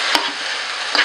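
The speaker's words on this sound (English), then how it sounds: "I'm gonna just soften these onions a bit." Onions softening in a pan for a vegan aloo palak, a steady close sizzle with two sharp stirring scrapes.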